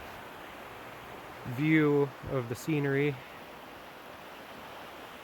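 A river flows steadily in cold, snowy New Hampshire at about 15 degrees, a broad, even rush of water that runs throughout, with someone talking briefly over it in the middle.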